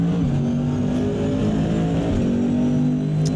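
Toyota GR86 GT300 race car in a sim racing game at Watkins Glen, its engine droning loud and steady at high revs with a pitch shift partway through, continuous throughout.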